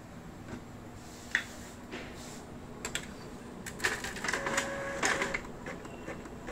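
A printer runs through a page in a string of whirring feeds, clicks and short mechanical rattles, busier toward the end, close by with no one speaking.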